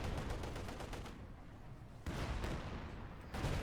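Field gun shooting in the World War II strategy game Company of Heroes 2, repeated booming shots and rumbling blasts in quick succession, dense and continuous with two sharp onsets.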